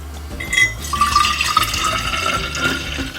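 Leftover coffee pours from a pot into containers, a steady trickling liquid stream that rises in pitch as it fills, close and clear with no talk.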